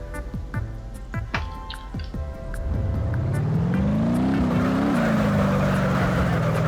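A car engine in the BeamNG driving game winds up from a low idle into a rising, droning acceleration, preceded by a few sharp dripping plinks, fairly loud and continuous.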